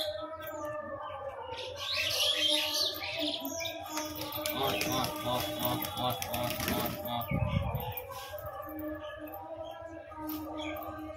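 Flying pigeons let loose and given feed, with chirping calls and a busy flutter of wings and clattering close by, a denser burst of fluttering in the middle.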